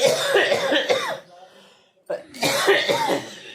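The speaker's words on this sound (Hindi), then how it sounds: "और खांसी इतनी गंदी वाली होती है" Harsh coughing fits come in two bursts separated by a brief quiet gap, close to the microphone, with some voice sounds mixed in.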